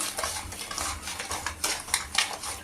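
A spoon scrapes and clinks around a pot of tomato sauce with sugar as it is stirred, in soft irregular strokes of scraping and metallic taps, with no voices.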